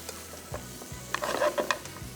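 A mushroom sauce thickened with flour is stirred in a pan. The stirring gives a few quiet scrapes with a faint sizzle, close by and with no talking.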